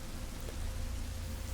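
A steady wash of heavy rain as a sound effect in an audio drama, a dense, even hiss with a low rumble underneath, heard alone without voices.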